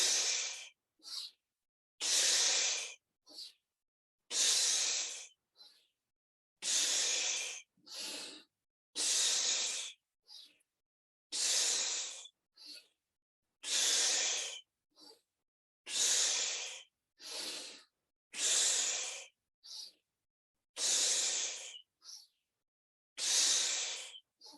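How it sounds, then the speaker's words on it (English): Sharp, forceful exhaled breaths in a group breathwork session, about sixteen bursts spaced a second or so apart, each a loud airy rush with short gaps of silence between, close and alone without talk. "Together we exhale"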